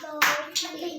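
A teacher claps twice in a classroom counting activity for children, two crisp, close hand claps about a third of a second apart, with no talking.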